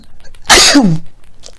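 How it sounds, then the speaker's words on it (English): A single loud, sharp sneeze bursts out close by, quick and explosive, with quiet before and after. "Oh, I'm about to sneeze, y'all."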